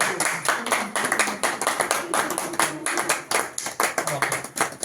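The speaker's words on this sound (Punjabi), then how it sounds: "ਚਲੋ ਤਾੜੀ ਦਾ ਸ਼ਾਟ" A group claps hands in a steady, fast rhythm during a song video shoot, the sharp slaps dense and close, continuing throughout with a voice briefly audible underneath.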